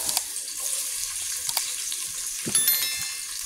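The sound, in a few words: onions frying in oil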